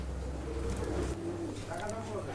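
A Lakha fancy pigeon at Abu Bakkar's pigeon farm in Natore coos softly over a low hum of background noise.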